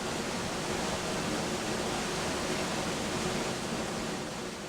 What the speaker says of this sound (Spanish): y acabamos en una gran cascada